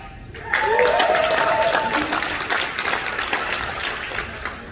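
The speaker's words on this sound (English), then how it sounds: "If you have to clap or yell" Clapping and yelling from a conference audience of emergency response volunteers, a loud crowd bursting in after a short pause and sustained to the end, with whoops and cheers rising over dense applause.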